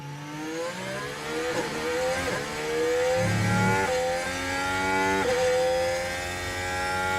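Several F1 cars in the video game F1 Manager 2013 race at the Chinese Grand Prix, engines revving and rising in pitch as they close in and overtake, a loud continuous whine of layered engine harmonics.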